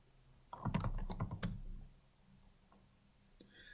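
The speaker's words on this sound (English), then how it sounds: "press Y and hit enter in case you agree with the terms." Keys on a computer keyboard are pressed in a short burst of close clicky strokes, then a couple of isolated faint taps after a pause.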